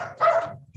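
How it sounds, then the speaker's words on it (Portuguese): A small dog gives one sharp yip-like bark close by, followed by faint whimpering in a quiet room. "o cachorrinho aqui está chegando aí"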